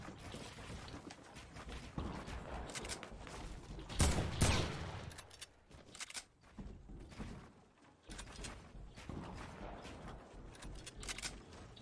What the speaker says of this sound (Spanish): Están disparando ahí dentro.